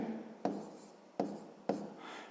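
A pen or pencil writes math on paper in three quick scratchy strokes, each a sharp onset fading into a soft rub, faint and close in a quiet room.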